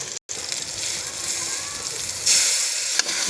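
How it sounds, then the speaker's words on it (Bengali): Tomato paste sizzles in a hot pan of spiced oil while a Bengali fish curry with garam masala cooks, a steady broadband hiss with a brief break near the start and a brighter surge later on. "এখন দেব মিক্স করে রাখা টমেটোর পেস্ট"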